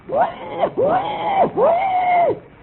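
A human voice imitates an animal cry with three rising-and-falling squealing calls in quick succession, close and clear.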